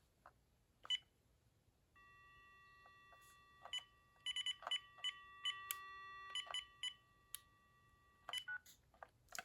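Uniden DXI386-2 900MHz analog cordless phone dialing a test line, a quick run of clear DTMF keypad tones in uneven bursts over a steady dial tone, close and fairly loud with no talking.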